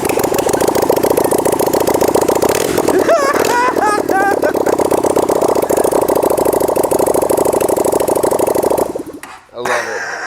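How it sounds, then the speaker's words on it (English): A motorcycle engine with no exhaust fitted runs loud and close in a steady, rattling idle with a couple of throttle blips, voices talking over it, before the engine cuts off near the end. "You could get away with riding that with no exhaust"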